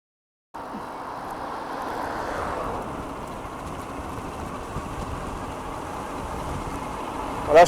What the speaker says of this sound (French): J'ai le vent face à moi.